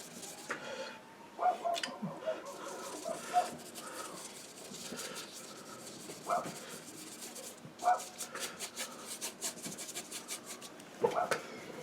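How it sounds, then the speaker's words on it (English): A neighbour's small dog yaps in scattered, faint barks and whimpers from next door, heard through room noise and light rubbing sounds. "Oh, what's that dog? It's next door's dog."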